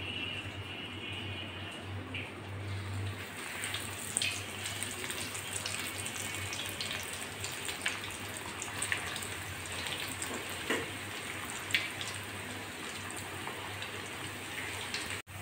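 Potato snacks fry in hot oil, a quiet, even crackling sizzle that resembles running water, holding steady with a few brief pops and no talking.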